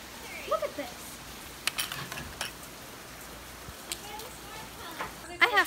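Rain patters steadily at a beach, a soft even hiss with scattered drop ticks, while voices talk intermittently over it.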